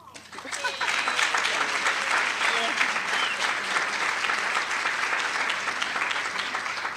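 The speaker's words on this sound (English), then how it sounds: "You deserve a round of applause" An audience at a hotel event breaks into applause, the clapping swelling quickly after a brief quiet start and continuing steadily and fairly loud to the end.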